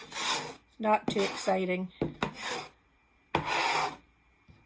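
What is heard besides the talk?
scraping quilting board clean with edge of ruler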